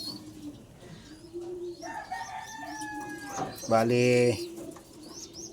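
Racing pigeons coo in low, repeated soft calls near at hand, with chirps and a brief louder burst partway through while someone talks over them.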